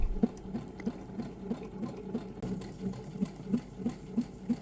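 A sewing machine stitches a buttonhole into fabric for a Little Women–inspired outfit, running steadily with a soft mechanical hum and a regular, rapid rhythmic patter of needle strokes, close and moderately quiet with no talking.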